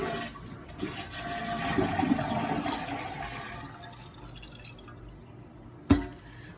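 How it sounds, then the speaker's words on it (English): A household toilet with a faulty flapper flushing, water rushing loudly into the bowl, then draining away to quiet, ending with a sharp clunk near the end. "then you flush the toilet."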